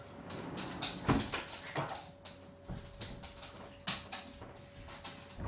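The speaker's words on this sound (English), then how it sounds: "Hey, there's my dog." A dog whimpers and gives a few short yips, with scuffling and light knocks close by in a quiet room.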